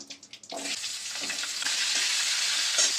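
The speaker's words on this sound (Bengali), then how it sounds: "সজনে ডাঁটাগুলোকে ভেজে নেব" Drumsticks frying in a pan: a few quick clicks, then a steady, close sizzle with bursts of crackle that runs to the end, no voices.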